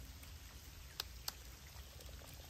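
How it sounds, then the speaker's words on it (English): Steady outdoor rain falls during a fish-trapping outing, a faint even hiss with two brief sharp drip-like taps. "Still raining."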